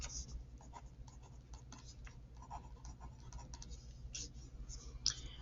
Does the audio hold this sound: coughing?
no